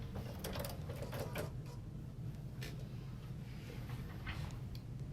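A sewing machine runs steadily while stitching a fabric seam, giving a continuous mechanical whir with a fast, even rhythm. It is close and fairly quiet, and no one speaks over it.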